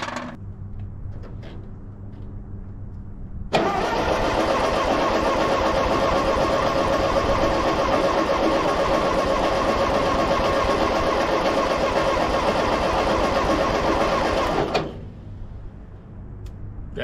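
An old Ford 9N tractor, over 80 years old, cranks for about eleven seconds after a squirt of ether, a loud, steady, close starter-driven churn that stops abruptly, with quieter shuffling noises before and after.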